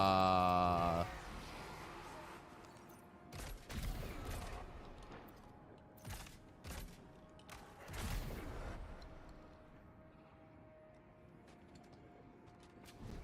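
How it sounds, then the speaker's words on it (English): Shotgun blasts in the video game Death Stranding 2, several loud broadband bursts at irregular intervals amid creaking mechanical effects and background game noise, with a tonal sound fading at the start. "Level 2 shotgun kicking butt!"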